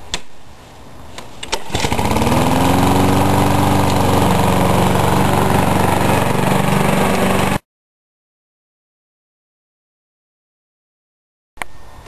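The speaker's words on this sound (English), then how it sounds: "this lever here, pulled towards the guide bar, will allow the lawnmower to start moving forward" A gasoline lawn mower engine runs loud and close as the mower drives forward. Its steady roar goes on for several seconds, then cuts off abruptly.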